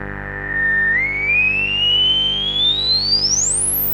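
A droning synthesizer with heavy filter resonance gives a sharp resonant whistle sweeping steadily upward in pitch, loud and continuous, with no voices.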